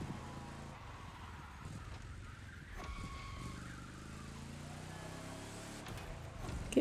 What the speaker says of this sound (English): we're driving up the stairs in the Beetle